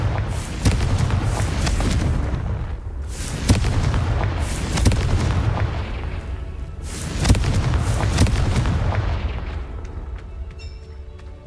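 Confringo fire-blast spells going off in the video game Hogwarts Legacy: repeated heavy booming explosions with rumbling tails that overlap into a loud, continuous roar before fading at the end.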